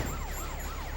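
An ambulance siren in the video game GTA: Vice City wails in a quick repeating rising-falling sweep, faint and brief.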